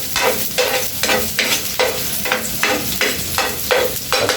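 Chopped onion and garlic frying in a hot pan for tinola, a loud sizzle broken by regular stirring strokes roughly every half second, with no voices.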